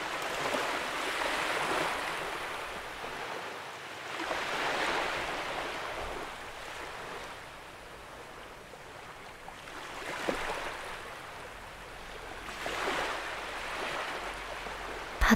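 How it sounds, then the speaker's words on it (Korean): Sea waves surging and washing in broad, rolling swells that build and recede every few seconds, with a steady airy wash of surf and wind between crests, no voices present. "그냥 이렇게 바다를 듣고"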